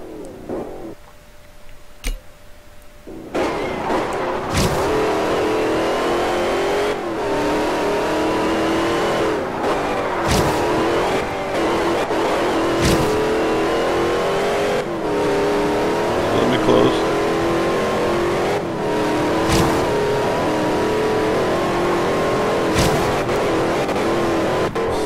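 A car engine in the Forza Horizon racing game revs hard and sustained through a dirt club circuit run, with repeated gear-change dips and loud continuous engine drone after a brief quieter start.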